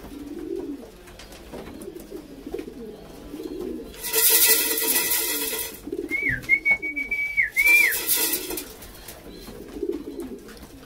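Racing pigeons coo in their loft, with soft repeated rolling coos throughout and bursts of louder wingbeat-like rustling near the middle, plus a brief whistle over the calls.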